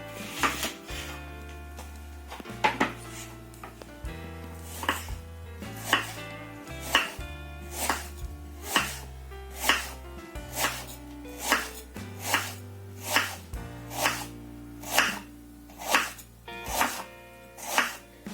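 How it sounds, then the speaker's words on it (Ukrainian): Onion sliced into half rings for marinating in an eggplant salad: steady, evenly spaced knife strikes on a cutting board, close and crisp, over soft background music. "Цибульку будемо нарізати полукольцями так як дана цибулька у нас буде маринуватися."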